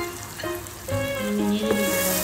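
Chunks of liver dropped into hot spiced oil for Bengali kolija bhuna set off a steady close sizzle that swells as they hit the pan. A few clinks of the utensil ring over the frying.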